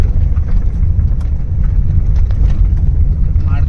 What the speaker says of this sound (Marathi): गाड्यांची ये जा चालू आहे खूप गर्दी असते